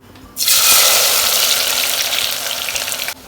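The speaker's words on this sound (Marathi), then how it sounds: "पॅनमध्ये तेल घालून कांदा फ्राय करून घ्यायचा आहे उभा चिरलेला कांदा फ्राय करून घ्यायचा आहे" Vertically sliced onion frying in hot oil in a pan for vegetable biryani, a loud, steady, close sizzle that bursts in abruptly and holds evenly for about three seconds before cutting off, with no talking.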